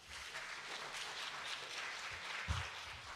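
Scattered applause from an audience at a university ideas competition, moderately loud and steady for a few seconds, with one sharper clap or thud near the end and no talking.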